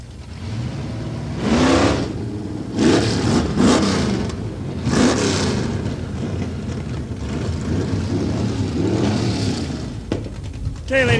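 A pro mod drag racing car from a 1992 event roars hard down the strip in repeated loud, rising bursts of engine noise, while a public-address announcer talks over much of it.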